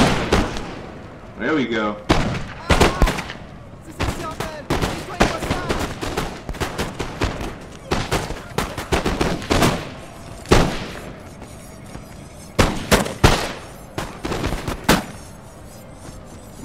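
Musket volleys crack out in a Napoleonic battle video game, clustered sharp reports firing in bursts and scattered single shots, loud and close, with brief talk in the clip.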